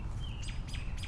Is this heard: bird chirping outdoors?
yes